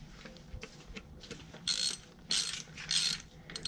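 A ratchet tightens transmission control module bolts on a 2005–08 Nissan truck's RE5R05A transmission, with quick clicking strokes close by that come in short bursts.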